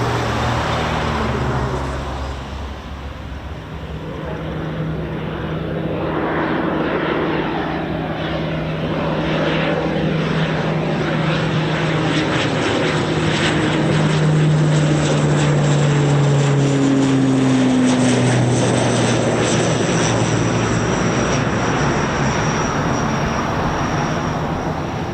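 A heavy USAF military transport with propeller engines, such as an MC-130J, takes off with a loud, steady drone whose pitch rises and shifts as the aircraft climbs, joined by a broad roar throughout.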